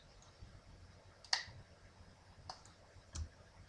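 Computer mouse clicks and a drag selecting figures in a database record's date field, a few sharp, faint clicks spaced apart against quiet room hiss.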